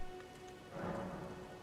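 Steady rain falls in the Elden Ring game world, a soft continuous hiss of drops with a brief swell in the middle, heard alone.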